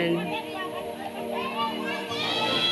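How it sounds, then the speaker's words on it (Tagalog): Children shouting and playing at a beach resort at low tide, a lively mix of young voices calling out over steady background noise, moderately close. "Sigawan ng mga bata."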